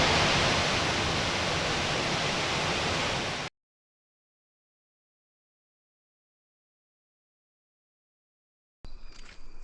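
Waterfall at the edge of a swimming pool on Hinchinbrook Island, a steady loud broadband rush of falling water that cuts off abruptly, then silence before a short burst of rushing sound returns.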